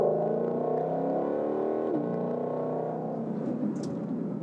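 A 2022 Ford Mustang GT500 on a test drive: a steady droning engine note that dips in pitch on a downshift midway, then settles into a rougher, fading rumble.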